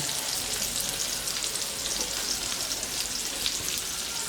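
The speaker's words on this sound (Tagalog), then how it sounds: "Pwede na natin ilagay yung ating native chicken." Native chicken pieces sizzling in a hot pan for spicy adobo, a dense steady crackle of frying, close and continuous with no talk.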